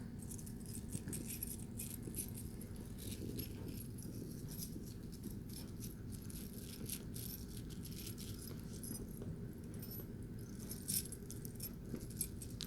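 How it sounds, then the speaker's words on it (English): Continuous metallic jangling like a bunch of car keys being shaken, close and steady for the whole stretch, with no voices. "That almost sounds like car keys."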